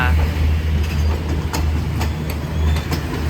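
Special Thai southern-line passenger train with extra coaches rolling past at night, a steady loud rumble of wheels and cars with faint rhythmic clicks, close by, with a little talk in the background.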